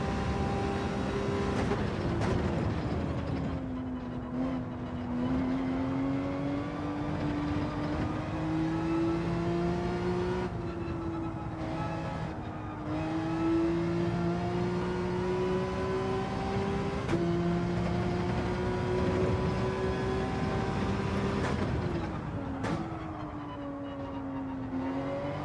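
A Porsche race car engine in Gran Turismo 7 drones steadily through a lap, its pitch climbing and dropping with repeated gear changes and throttle lifts, loud and continuous with no talk.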